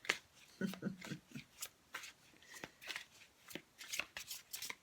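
Tarot cards are shuffled in quick, crisp riffling bursts repeated over several seconds, close and fairly quiet, with faint voice sounds in the background.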